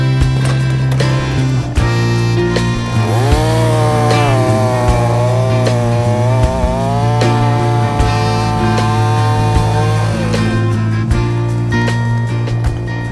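A Husqvarna chainsaw with TrioBrake cuts firewood: a loud, close, continuous engine whine that rises and bends in pitch as the chain bites, then settles back.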